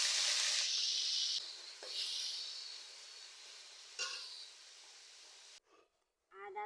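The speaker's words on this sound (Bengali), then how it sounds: "তেলের উপরে ভেজে নিচ্ছি" Potato cubes fry in oil in a wok, giving a loud sizzling hiss at first that returns in shorter bursts and then fades, ending with a brief quieter rustle.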